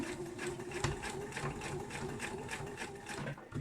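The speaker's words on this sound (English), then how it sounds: "I turn it around like so, and I'll just sew back down." A sewing machine stitches a fabric hairband with a fast, steady mechanical whirr and regular needle ticks, close and continuous throughout, with no voice over it.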